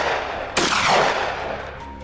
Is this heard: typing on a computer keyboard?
no